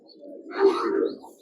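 Pigeons in a loft give a soft, low, rolling coo, close and swelling once in the middle before fading, with no talk.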